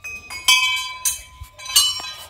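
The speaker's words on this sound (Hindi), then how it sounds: "सारी घंटी बजा दे रहे हैं," Temple bells are rung in quick succession, several sharp metallic strikes each leaving a ringing tone that overlaps the next, moderately loud with no talk.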